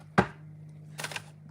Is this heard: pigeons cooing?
no